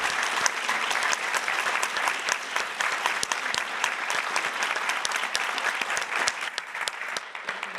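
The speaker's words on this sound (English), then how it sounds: "Please give a big round of applause for this group." An audience at a plenary session claps loudly and continuously for a group, with many distinct sharp claps over a thick, sustained wash of applause that tapers slightly at the end.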